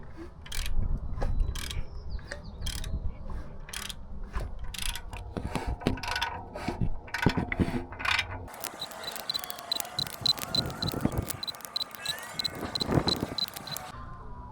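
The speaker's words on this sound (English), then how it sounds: "as you can see, this motor spins really good" A rebuilt BMW engine turned over by hand with a ratchet, spinning freely: steady close ratcheting clicks and mechanical whirring that carry on throughout, growing busier in the second half.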